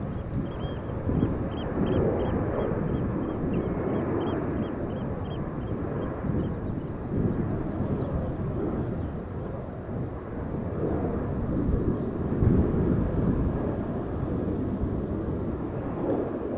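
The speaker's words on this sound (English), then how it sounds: "We do have another departure from center. Is that a 737? It looks like it." A Boeing 737 departing Amsterdam Schiphol, a broad distant jet roar rumbling continuously and swelling slightly, with faint bird caws briefly audible early on.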